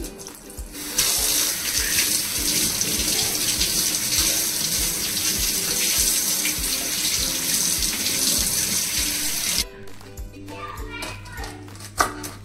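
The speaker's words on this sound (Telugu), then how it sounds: "దీన్ని వాటర్తో నీట్గా క్లీన్ చేసుకోవాలి" Celery is rinsed under a running kitchen tap, a loud steady gush of water that stops abruptly near the end. Children's voices and low household sounds carry on in the background.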